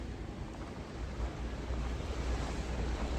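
Strong wind blowing outdoors in a snowy landscape, a steady, blustery roar with low rumbling gusts that fills the whole stretch without a break.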